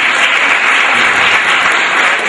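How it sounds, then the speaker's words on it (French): Audience applause at an awards ceremony for advertising and media trophies in Casablanca, a dense, loud, steady wash of many hands clapping with no talk over it. "Mesdames et messieurs, quelques applaudissements."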